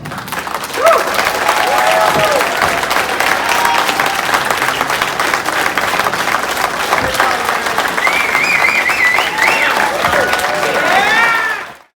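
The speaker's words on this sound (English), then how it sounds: "I think all these people owe you a round of applause" A wrestling show audience breaks into sustained applause and cheering, a dense, loud crowd roar that holds for about eleven seconds before cutting off, with scattered shouts above the clapping.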